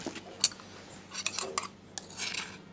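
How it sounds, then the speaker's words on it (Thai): A spoon scrapes and clinks against a cup and dish as a ground mixture is scooped in, a few sharp metallic taps spaced irregularly over a quiet background. "ละเอียดแล้วครับ แล้วก็ตักใส่ถ้วยนะครับ"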